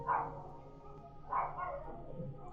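Dogs barking in the Fallout New Vegas video game: two loud, close barks about a second apart, then a softer yip, with quiet game ambience between them.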